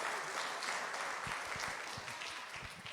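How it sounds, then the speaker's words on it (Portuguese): A church congregation clapping in applause, a dense, continuous patter of many hands at moderate distance, fairly faint and steady throughout. "Bate uma salva de palmas para Jesus"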